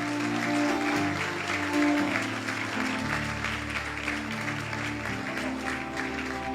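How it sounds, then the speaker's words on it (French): An audience at a prophetic church service applauds steadily and loudly, with music playing underneath throughout. "Acclamons pour l'Esprit de Dieu"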